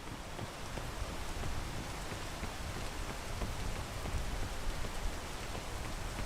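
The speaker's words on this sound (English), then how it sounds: "We're gonna wait for this rain to clear" Rain falling steadily on surfaces, a dense, even hiss of drops throughout, fairly loud and with no voices.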